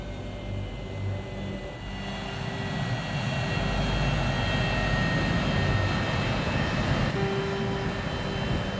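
Airliner landing at Bangor, a broad roaring rumble of aircraft engines and rushing air heard from inside the cabin, steady and loud, swelling slightly partway through with a faint tonal whine.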